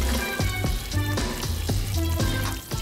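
Water splashes and runs over a board as shaving cream is rinsed off, a steady close sloshing wash broken by repeated splashy pulses, with no talking.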